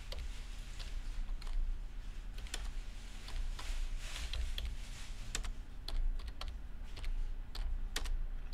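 Steady, close typing on a computer keyboard during a morning coffee livestream, a continuous patter of keystrokes with a few sharper taps and no talk.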